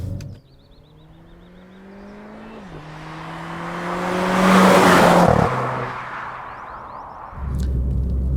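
A Renault Clio RS200 EDC in race mode drives at low speed. Its steady engine drone shifts pitch at a gearchange, swells louder midway, then drops back to a low, close hum.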